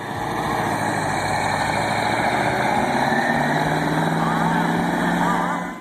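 A Cummins VT903 V8 diesel engine idles with a steady, dense rumble and a raspy higher whine layered on top, close and loud, holding an even note from start to finish without revving.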